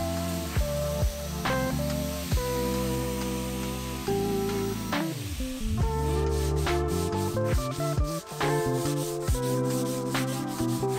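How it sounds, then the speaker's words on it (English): Flexible sanding disc loaded with 120 grit sandpaper working over power-carved wood for a pendant light, a steady loud rubbing grind with repeated short scraping passes and pitch shifts, no voices. "Once I had it roughed out, I could switch over to the sanding disc."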